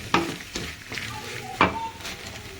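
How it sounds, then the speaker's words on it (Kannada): Tomatoes roast in a hot pan with a low sizzle while a spoon stirs and scrapes against the metal in a few distinct strokes, and a voice speaks faintly underneath. "ಟೊಮೆಟೊ ಹಾಕ್ಕೊಂಡು ಅದು ಚೆನ್ನಾಗಿ ರೋಸ್ಟ್ ಮಾಡ್ಕೊಳ್ಳಿ"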